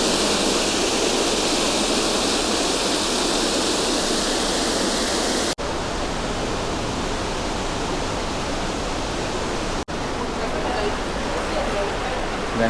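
Steady, dense rushing of flowing river water in Seoul fills the whole clip, loud and continuous like a river or weir nearby, with brief cuts partway through.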